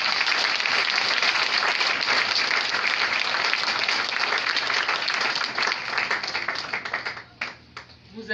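A large crowd applauds loudly and close, a dense sustained burst of clapping that breaks up near the end into a few scattered claps.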